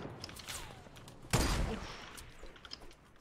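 A sharp burst of video game gunfire cracks out once, loud and close, with a few fainter scattered shots around it.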